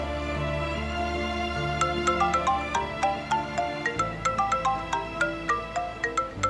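A phone ringtone playing a repeating melodic electronic pattern of bright tones in regular pulses over a low background hum, alone and at close range.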